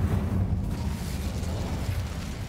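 The Incendio fire spell in Hogwarts Legacy bursts into a steady, rumbling whoosh of flame, low and continuous for a couple of seconds without a clear onset or end.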